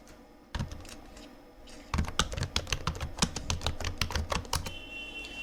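Rapid typing on a computer keyboard while entering a title in Edius video-editing software, with dense clattering keystrokes in quick bursts after a couple of isolated taps, close and clear, with no talking.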